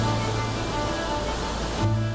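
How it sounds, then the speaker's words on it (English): Water rushing through a hydroelectric dam, a steady, loud, broadband roar that continues without a break. "This is a hydro dam."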